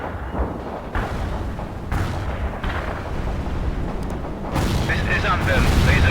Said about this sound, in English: The artillery rounds are inbound.